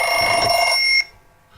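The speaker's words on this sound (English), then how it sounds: "Sorry about that. That's my phone." A phone rings loud and close with a bright, tonal electronic trill that cuts off abruptly after about a second.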